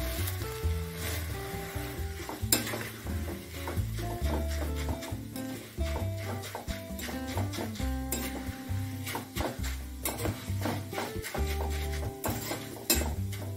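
Flattened rice (poha) frying in hot oil for homemade chivda gives a steady crackling sizzle with occasional scraping clinks of a utensil against the pan, under background music.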